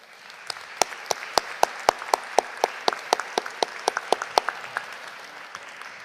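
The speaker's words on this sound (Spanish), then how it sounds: "pero por favor un fuerte aplauso para ellos." A crowd applauds at a Peruvian congressman's Family Day speech. Steady applause fills the background, sharp rhythmic claps sound close by for several seconds, and then it dies away.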